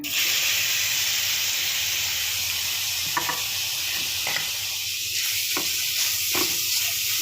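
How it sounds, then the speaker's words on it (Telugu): Grated carrots sizzle steadily in hot ghee for carrot halwa, with a continuous close frying hiss and a few soft stirring scrapes, and no talking. "ఇప్పుడు క్యారెట్ వేస్తున్నాం నేతిలో చెప్పుకున్నాం"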